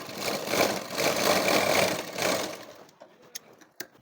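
A domestic sewing machine runs steadily while stitching a blouse, a dense continuous whirr for about two and a half seconds, then stops, leaving a few faint clicks.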